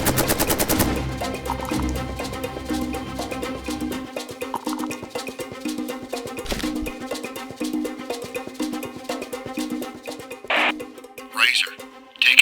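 A sustained barrage of rapid automatic fire from sci-fi railguns hammers on for several seconds, dense and loud, then thins into scattered bursts and sharp electronic zaps toward the end.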